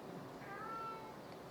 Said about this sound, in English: My cat is having a time.